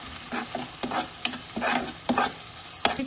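Finely chopped onion fries in a pan for garlic pepper chicken, with rhythmic spatula scrapes about every half second over a bright, steady sizzle.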